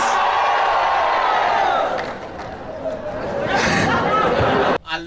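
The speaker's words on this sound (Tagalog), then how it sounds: "Ang lakas ng sigawan ng mga kababayan natin dyan sa Cebu" A large outdoor crowd in Cebu shouts loudly in unison as an answer, a dense roar that swells, dips, then rises again before cutting off abruptly.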